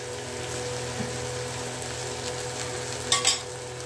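Cumin paste masala fries in a pan with a soft, steady sizzle throughout, ending in a couple of brief sharper crackles near the end.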